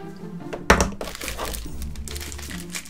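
Small plastic wrapping crinkles around a newly unboxed One Piece P.O.P Neo DX figurine, a sharp crackle followed by softer rustling, close and fairly quiet, with no talking.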